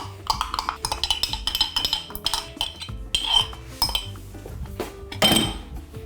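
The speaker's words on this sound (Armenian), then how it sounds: "Խառնում ենք և լցնում։" Utensils clink and scrape against a bowl as stuffing is mixed and poured over grape-leaf bean tolma, a busy run of close metallic knocks and taps with no talk.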